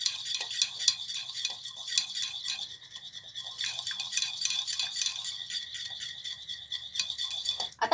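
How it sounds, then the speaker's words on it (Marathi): Ghee being whisked in a bowl for milky coin-biscuit cookie dough, a quick steady scraping and tapping that runs continuously and close at hand with no voices. "आता ह्याला आपण व्यवस्थित फेटून घेऊया"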